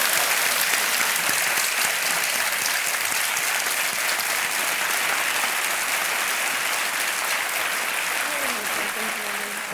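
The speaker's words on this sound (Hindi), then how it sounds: "एक बार फिर तालियों के साथ इनका अभिनंदन।" A studio audience on a televised quiz show claps loudly and steadily for nearly ten seconds, a dense, even wash of applause that tapers only slightly at the end.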